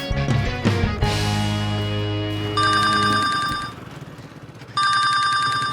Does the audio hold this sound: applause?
no